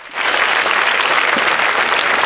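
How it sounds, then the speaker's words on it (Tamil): An audience claps together after a call to applaud at a police gathering in a village, a dense, steady burst of many hands that stays loud from start to finish. "ஒரு தடவை நன்றாக போலீஸ் மாதிரி கைதட்டுங்கள்"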